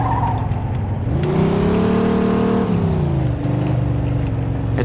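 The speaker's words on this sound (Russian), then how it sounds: "Thunderbolt на самом деле охрененная тачка" A pink Thunderbolt car in the video game Mafia 2 drives with a steady, loud engine drone that rises in pitch as it accelerates, then holds and settles lower, with a hint of tire squeal. No one speaks.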